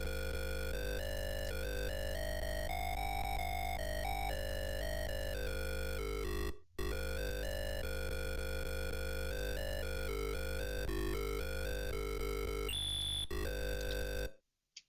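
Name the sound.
video game sound from World Cup Football on ZX Spectrum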